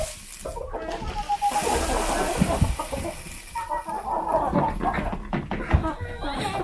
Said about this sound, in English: Let's go in and feed the chickens because I hear they're very excited for breakfast.